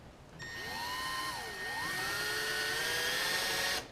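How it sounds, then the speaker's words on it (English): A drill bores into metal beside a bolt on a Mantis tiller, a steady high whine starting abruptly and running alone for several seconds, its pitch dipping and rising as the bit bites. "we're going to attempt to drill just up above it here"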